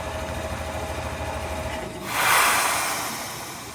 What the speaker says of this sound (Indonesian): Oke, kereta tujuan Jakarta Kota akan segera diberangkatkan ya.